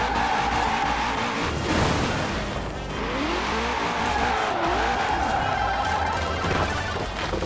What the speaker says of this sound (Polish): Spróbujemy zadriftować.